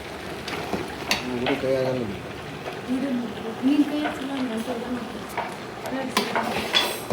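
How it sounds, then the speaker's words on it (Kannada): Boiled potatoes being stirred into a curry in a metal pan at a Sangameshwara khanavali eatery kitchen, with scraping spoon and clinking pan sounds under a background voice. "ಈಗ ಆಲೂಗಡ್ಡೆ ಮಿಕ್ಸ್ ಮಾಡ್ತಿದ್ದಾರೆ"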